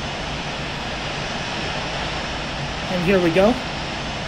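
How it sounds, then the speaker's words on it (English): Airplane engine droning steadily while taxiing to the ramp in the flight simulator game Infinite Flight, a constant broadband hum throughout with a brief voice speaking near the end. "We are, of course, taxiing to the ramp."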